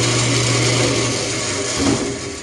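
A band saw runs steadily through a small piece of wood held in a Jorgensen clamp, a loud continuous motor hum and blade whine with a slight swell near the end of the cut.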